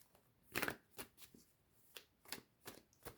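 Tarot cards being shuffled in several quick riffled bursts, soft and close, with short pauses between the papery snaps.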